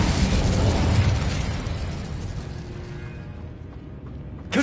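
A fire-blast spell in the video game Hogwarts Legacy erupts as a loud roaring burst of flame that slowly dies away over several seconds, ending with a short sharp pop.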